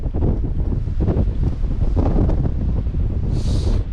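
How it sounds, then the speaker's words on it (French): Strong gusty wind buffets the microphone on a coastal road near Marseille, a loud continuous roar with no talk. "C'est venteux."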